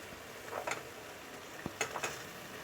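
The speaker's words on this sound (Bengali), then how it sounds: "এখন আমি দিয়ে দেবো এর মধ্যে কিছু একদম ফ্রেশ কাঁচা মটরশুঁটি" Fresh raw green peas drop into a frying spice paste, giving a few faint, brief ticks and light sizzling clicks over a quiet background.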